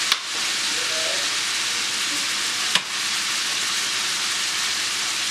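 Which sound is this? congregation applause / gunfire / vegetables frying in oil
vegetables frying in oil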